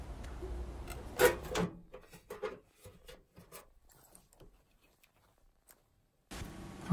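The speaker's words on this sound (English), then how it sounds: "insert the power supply inside the PC case and try to estimate the best route for the power cables" A Corsair TX 650M power supply being slid into a PC case, with scraping and rubbing knocks of metal against metal, a louder clunk near the start and intermittent light handling noises, then a brief burst of broadband noise near the end.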